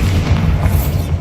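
Bombarda explosion spell cast in the Hogwarts Legacy video game, a dense, booming low-frequency blast that fills the whole short moment with a sustained rumble and a brighter crackle near the end.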